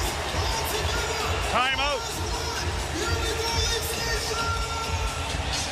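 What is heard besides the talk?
hockey arena crowd at Panthers vs Maple Leafs game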